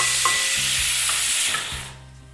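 Coriander seeds dry-roasting in a pan for Brahmin-style rasam give a steady close sizzling hiss with a few soft stirring scrapes, fading toward the end; no voices.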